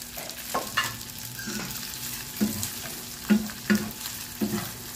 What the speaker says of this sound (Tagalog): Balik natin dyan ang ating ginisang giniling.